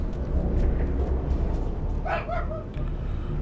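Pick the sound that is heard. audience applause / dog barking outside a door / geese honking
dog barking outside a door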